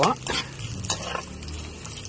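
Chayote pieces go into a hot pan for a Filipino ginisang sayote with carrots, giving a close scraping stir and a steady sizzle with a few utensil knocks against the pan.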